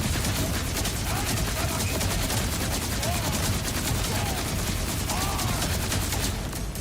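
Rapid SMG gunfire in Borderlands 4 rattles in a dense, continuous stream of shots, loud and close, with faint voices underneath.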